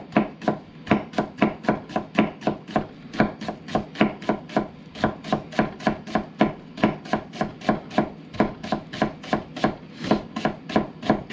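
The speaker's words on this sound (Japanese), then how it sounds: "包丁は適当に入れてもらって細かいみじんにしますのでね" A kitchen knife finely minces food on a cutting board in rapid, steady, evenly spaced chops, close and crisp, continuing without pause for the whole stretch.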